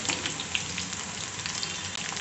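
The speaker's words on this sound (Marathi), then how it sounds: "तेल छान तापलेलं आहे, थोडं थोडं करून आपण हे तळून घेऊयात" Dense, steady sizzling and crackling of chapati pieces frying in hot oil over medium gas, close and continuous with scattered pops, no voices.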